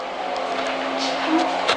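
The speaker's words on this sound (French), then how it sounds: "je roule avec leur propre voiture et je les distance" A car in the video game GTA V drives at speed, a steady engine drone with a humming tone and a brief rising squeal near the end, heard alone without talk.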